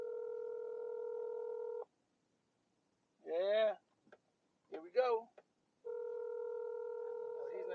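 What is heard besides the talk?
phone call dialing on speaker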